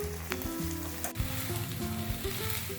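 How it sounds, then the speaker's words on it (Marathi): Crispy chicken pieces fry a second time in hot oil, a loud, steady crackling sizzle with no pauses and no voices, nothing else breaking through. "गरम तेलामध्ये तळून घ्यायचे परत एकदा म्हणजे छान क्रिस्पी होतात"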